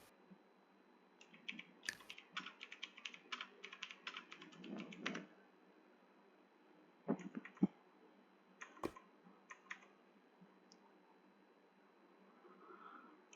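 Fingers type a chat message on a computer keyboard: quick bursts of soft clicks for several seconds, then sparser, isolated key taps and a few louder clacks, fairly close in a quiet room.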